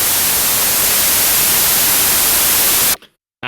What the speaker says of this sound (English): you have made the sound of an old TV. Or wind